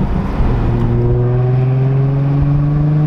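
An Infiniti G35 with its exhaust valve open revs loudly on a downshift, a steady close droning note with rising harmonics that holds for a few seconds with no talking.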